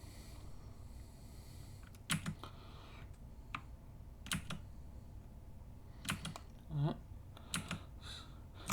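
Sparse keyboard key presses in short clustered bursts with pauses between, fairly quiet over a low steady background hum, with a soft sniff partway through.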